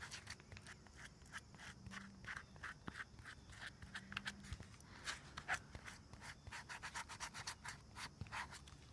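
Sandpaper scuffs a foam apple prop for a Halloween poison apple, giving a steady soft rubbing and scratching with quick repeated strokes, faint and close, with no talk.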